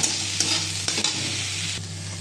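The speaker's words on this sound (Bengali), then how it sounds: "দেখুন ভাজাটা আমার প্রায় হয়ে এসছে, এবার আমি নুনটা অ্যাড করলাম" Vegetables frying in a pan while being stirred, a continuous close sizzle broken by a few scraping stir strokes, with no voices.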